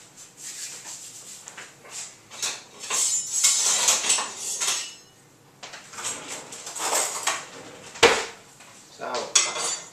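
Knife scraping and clinking around a tin while trimming chocolate fudge cakes, with bursts of metallic rubbing and a few sharp knocks, close by and separated by brief pauses.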